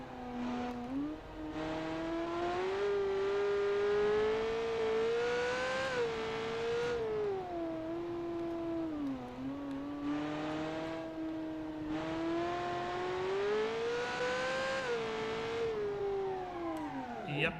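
A muscle car engine in a racing video game revs hard under throttle, its pitch climbing and dipping in long sustained sweeps, loud and continuous throughout with no talk.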